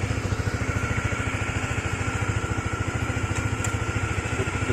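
A small-cc motorcycle engine idles steadily and close by, with a fast, even chug that runs without a break. No voices are heard.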